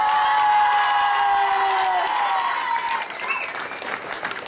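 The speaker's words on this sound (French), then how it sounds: "on peut aussi les applaudir" Audience applause after a youth show, crowd clapping with some cheering and children's voices, starting under a sustained whistle-like tone and a voice, then continuing as a looser, moderately loud applause.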